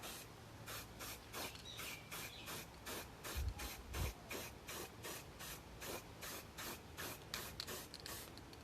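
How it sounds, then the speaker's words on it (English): A spray paint can lays down a light black overspray mist in a rapid train of short hissing bursts, close and steady, with no talking over it. "We're gonna go ahead and aim right around here and let the overspray kind of take over."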